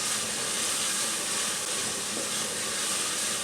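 Ridge gourd sizzles in frying masala in a pan, a steady, soft hiss with faint crackle throughout, alone with no talk.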